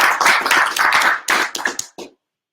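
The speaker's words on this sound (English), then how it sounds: "so let's give him a round of applause." Meetup audience applauding, a short dense burst of clapping that thins into a few scattered claps and stops abruptly.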